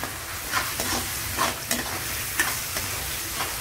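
Soaked chana dal frying with onions in a hot pan gives off a steady close sizzle, broken every half second or so by the scrape and rustle of stirring.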